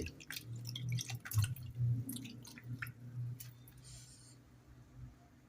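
Sliced mushrooms are rinsed in water by hand before steaming, giving wet squishing, dripping and splashing sounds, close and moderately quiet, with a low hum underneath.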